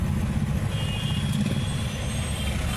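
Road traffic rumbling steadily close by, a heavy low-pitched engine drone like a truck or bus, with faint high tonal whine, continuous throughout with no talk.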